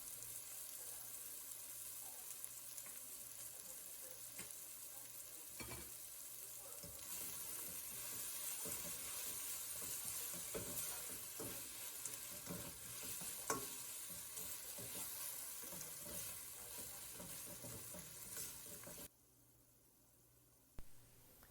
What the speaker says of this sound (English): Add half tablespoon of salt and mix it well.